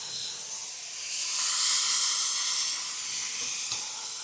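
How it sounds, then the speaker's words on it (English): A continuous airy hiss of a Wagner Flexio 5000 HVLP paint sprayer painting cabinet doors, swelling louder in the middle and easing off, with no talking. "how fast you can spray some doors here."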